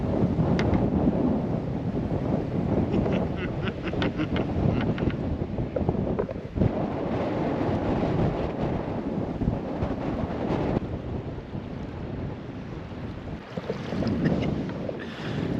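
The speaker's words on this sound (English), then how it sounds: "This wind is, I guess it's like a side tailwind" Strong gusty wind buffets the microphone while canoeing on open water, a loud steady roar with rushing surges and occasional light splashes, no voices.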